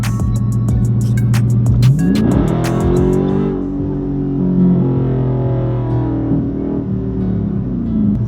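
Exhaust of a 2019 Dodge Charger Scat Pack with mid muffler and resonator deleted, loud and close: crackling idle pops, then a sharp rev that climbs and settles into a deep, aggressive rumble.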